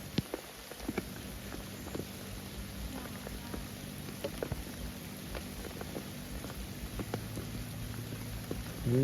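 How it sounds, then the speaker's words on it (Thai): Heavy rain falls on a forest hide in steady, quiet hissing sheets, dotted with scattered sharper drop impacts, continuous and somewhat distant, with no talking. "ฝนตกแรงมาก"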